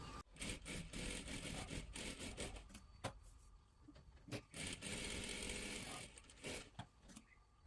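Short, uneven bursts from a sewing machine put a double stitch along one side of a salwar. Quiet, choppy mechanical whirring comes in stops and starts, with brief pauses between runs.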